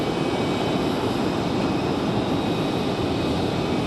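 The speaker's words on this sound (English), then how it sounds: "Delta getting ready for departure. Back to Atlanta." A Delta airliner readies for departure to Atlanta at Raleigh-Durham airport, its engines producing a steady, loud, unbroken broadband roar throughout.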